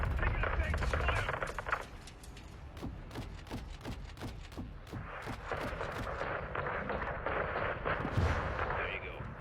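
Gunfire and explosions from Call of Duty: Modern Warfare II fight around a school building against cartel enemies, rapid sharp shots in bursts with heavy booms, loud and continuous under in-game radio voices.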